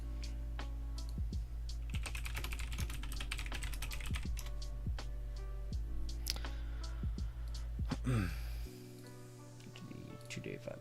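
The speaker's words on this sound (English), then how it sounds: "So all the typing I was doing just now" Rapid clicking keystrokes on a computer keyboard rattle on and off under a low steady hum, with a person talking over the typing.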